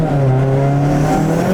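A tuned Toyota Glanza with a turbo accelerating, a loud close steady engine drone whose pitch holds and slowly climbs as it pulls under boost, with no talk.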